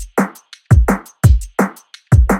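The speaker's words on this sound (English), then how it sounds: "And so in the verse, the drums sound like this" Tight dance-pop verse drum beat built from acoustic samples plays alone: punchy kicks and snappy snares alternate with crisp cymbal and hat hits in a steady, repeating groove.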